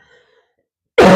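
A single loud, abrupt cough or throat clearing bursts out close to the mic after a second of near silence and is cut off at the end.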